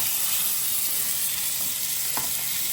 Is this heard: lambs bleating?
no